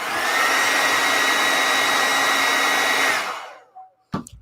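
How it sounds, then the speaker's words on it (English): A hair dryer blows on a pile of sculpting clay to soften it, a loud, steady whooshing roar with a faint whine that runs for about three seconds, then winds down and stops, followed by a couple of quiet handling clicks. "just take your hair dryer"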